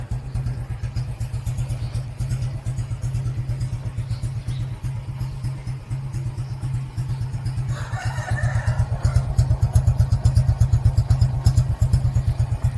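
A Honda Wave 125 motorcycle with a stock engine and stock exhaust idles steadily at close range, a loud, even low putter running unbroken throughout with no voices.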